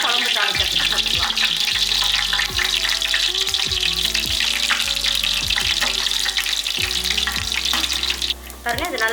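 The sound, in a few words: spices frying in oil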